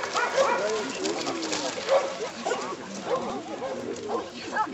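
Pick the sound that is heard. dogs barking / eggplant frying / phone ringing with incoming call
dogs barking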